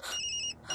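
A mobile phone ringtone sounds briefly, a bright electronic tone chiming in short bursts, fairly faint and heard alone.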